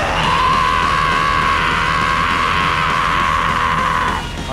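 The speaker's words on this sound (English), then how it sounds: "We'll all do a scream, yeah?" A live comedy audience at a venue screams together as a warm-up, one loud sustained crowd roar holding steady for about four seconds before cutting off abruptly.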